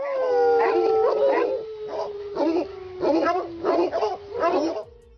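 Otterhounds, a large and noisy hunting breed, give a long wavering howl followed by a run of rhythmic baying barks, loud and close, several dogs blending together.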